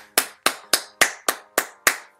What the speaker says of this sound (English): That's my clap.